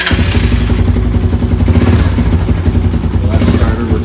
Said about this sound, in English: Got it fully charged up, and electric start works no problem.